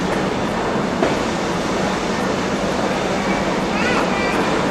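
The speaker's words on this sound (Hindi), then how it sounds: "ट्रेन तो जा रही है ना।" Train moving through a London station, a steady broad rumble and rush of rolling stock heard close and loud throughout, without clear speech.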